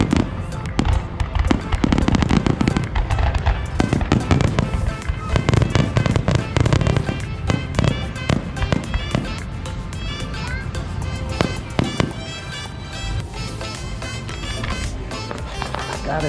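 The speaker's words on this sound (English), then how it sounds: "there's so many people out here tonight watching the fireworks" Fireworks burst at a crowded outdoor nighttime show, a dense, loud barrage of cracks and booms with crowd noise and voices mixed in throughout.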